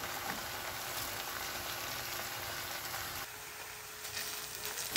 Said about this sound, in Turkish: 2-3 dakika kavuracağım.